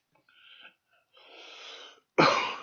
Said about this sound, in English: a little cough.